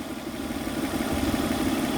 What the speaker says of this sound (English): that's a nice sounding engine.